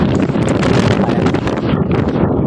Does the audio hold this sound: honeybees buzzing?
no